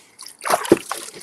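Water tossed out of a bucket or cup splashes in a short burst of sloshing, spattering bursts, close and fairly loud, lasting about a second.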